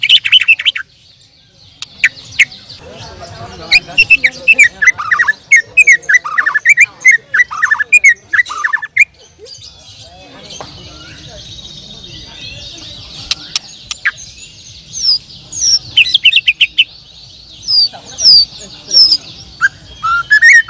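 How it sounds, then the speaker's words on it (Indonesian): A white-rumped shama (murai batu) sings loud, varied whistled phrases and chirps in repeated bursts with short pauses, fairly close, with another bird calling faintly in the background. "Murai batu A"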